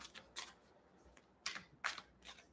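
Tarot cards shuffled in a quiet room: several short, crisp riffling bursts of card edges snapping together, spaced unevenly and heard close up with no one talking.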